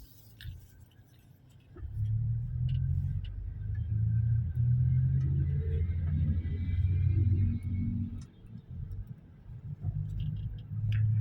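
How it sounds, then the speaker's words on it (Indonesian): A 2007 Toyota Innova engine runs smoothly at close range, a steady low rumble from inside the car while it drives, swelling slightly with light acceleration and easing near the end. "Suara mesinnya kan halus kan."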